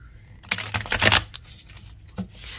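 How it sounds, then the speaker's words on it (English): A card deck with dusty gold edges is shuffled during a card reading, giving a quick papery riffle burst followed by a softer second flutter of cards, close and fairly quiet. "Let's give it a shuffle."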